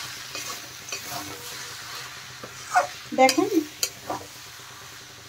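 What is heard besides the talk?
stirring fried cabbage with garam masala in a pan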